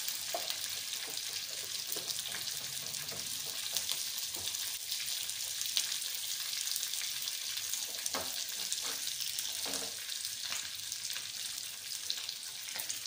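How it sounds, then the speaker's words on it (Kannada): Spices and green chillies tempering in hot oil in a pan, a quiet continuous sizzle and crackle with occasional sharper pops and light scraping, close by and without talk. "ನೋಡಿ ಒಗ್ಗರಣೆ ಹಾಕ್ತಾಯಿದೆ"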